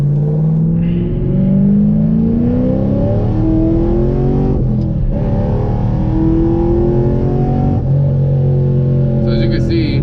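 Cammed 2015 Chevrolet Camaro SS 1LE V8 driving, a loud lumpy rumble that rises and falls with throttle in steady surges, heard from inside the car.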